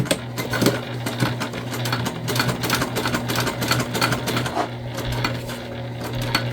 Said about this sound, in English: I'm going to go ahead and sew down from the top on both sides